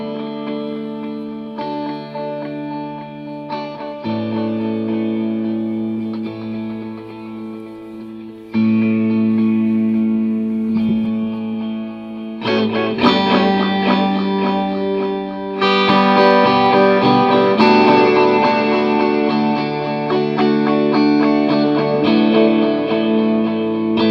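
Electric guitar played through effects and distortion, sustained chords and notes with chorus and echo shimmer, loud and full throughout, changing voicings every few seconds with no talking over it.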